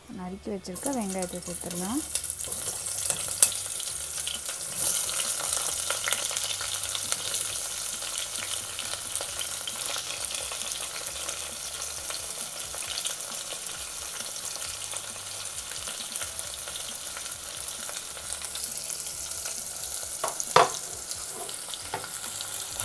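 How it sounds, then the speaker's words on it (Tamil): Chopped onions sizzle steadily in hot oil in a pan as part of a prawn biryani, a dense continuous frying hiss with a brief low voice-like sound at the start. "இப்போ இதில் வந்து நம்ம நறுக்கி வச்சிருக்க வெங்காயத்தை சேர்த்துடலாம்"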